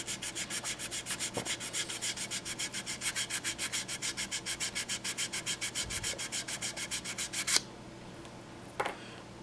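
Primer on a plastic scale model is sanded by hand in quick, even back-and-forth strokes, a close rhythmic raspy rubbing that stops abruptly, leaving near silence broken by one small knock.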